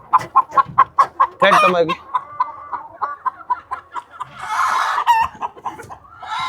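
Country hens on a farm cluck close by in quick, rhythmic bursts, broken by a louder squawk and more scattered clucking toward the end.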